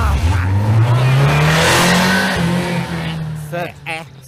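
A car speeds up hard in a film scene, a rising engine tone climbing steadily and loud for several seconds before easing off, with a voice speaking briefly near the end.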